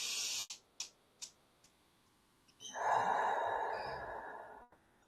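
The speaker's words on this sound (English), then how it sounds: "taking a breath really changes my energy" A person takes a deep, calming breath, a soft sustained airy inhale lasting over a second, preceded by a few faint clicks, close and quiet with no talking.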